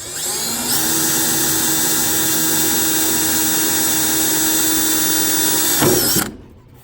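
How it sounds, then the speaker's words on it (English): A small power drill whines steadily for several seconds, boring through the cowl sheet metal of a 1967-72 Chevy C10, then winds down and stops abruptly near the end. "then you can go in with your small drill bit"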